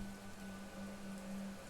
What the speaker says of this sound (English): we're having a bit of rain